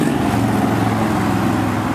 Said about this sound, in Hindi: बिना कुछ कहे जैसे तैसे मोटरसाइकिल में बैठ गया